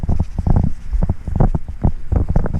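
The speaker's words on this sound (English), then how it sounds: "Wind is strong. 15 mph wind." Strong 15 mph wind buffets the microphone outdoors at an RC plane flying field, making loud, uneven low rumbling gusts that never stop.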